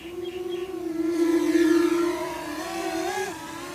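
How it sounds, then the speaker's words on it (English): Small flying camera aircraft whirring past, a near buzzing motor tone whose pitch rises then bends downward as it passes, moderately loud with faint background noise. "You can hear the motors in the background as they go past myself."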